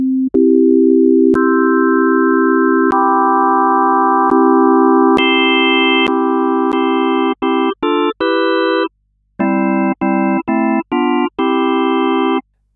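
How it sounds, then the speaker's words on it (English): Sine tones synthesized in Serum sound clean and electronic, starting as one sustained pitch, then thickening with added harmonics into organ-like chords before choppy, rapidly changing stabs with short gaps near the end. "Let's add in a sine wave."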